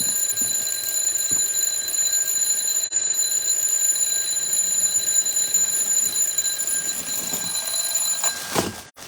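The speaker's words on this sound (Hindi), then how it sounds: "ये इसका अलार्म है।" A small battery-powered alarm clock rings with a steady, continuous high-pitched electronic beeping, close and fairly clear against faint background noise, cut off abruptly near the end.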